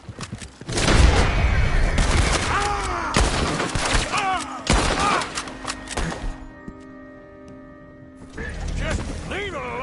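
Rapid gunfire from a firefight in Red Dead Redemption 2, with many sharp reports in quick bursts, loud and close. Shouting voices and a steady mechanical hum run underneath.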